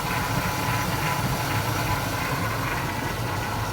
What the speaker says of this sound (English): This is a 2004 Cadillac Escalade ESV with a 6-liter all-aluminum block V8.